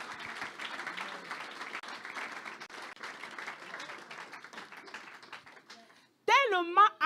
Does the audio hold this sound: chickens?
no